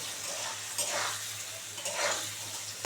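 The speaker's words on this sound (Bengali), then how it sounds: "এবার এটাকে ভালো করে একটু ভেজে নেব পনিরগুলো সুন্দর করে" Paneer sizzles and crackles in a hot pan, with a couple of stirring scrapes passing through the steady frying hiss.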